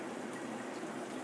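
Tap water pours in a soft, steady stream into a very small pot while making apple pie, a faint, even trickle with no voices.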